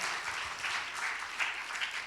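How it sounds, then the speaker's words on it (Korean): An audience at a Friday church service applauds with dense, steady clapping throughout, no voices standing out. "큰 박수 부탁드리겠습니다"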